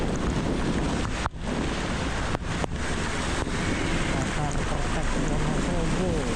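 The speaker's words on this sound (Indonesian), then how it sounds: "hujan malah makin jadi" Heavy rain pelting down during a motorcycle ride on a road through Kertek, heard as a dense, steady roar of rain and wind rushing over the microphone, with a few brief dropouts.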